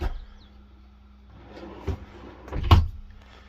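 Drawers with catches in a Promaster 136wb campervan opening and closing, with soft clicks and knocks and a louder latch thud near the end, close by with no talking.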